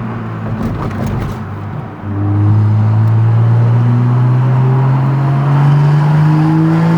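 A Toyota Supra A91-MT sports car engine with manual transmission roars close by, dipping briefly around two seconds as it downshifts, then holding a steady loud drone that climbs slowly in pitch.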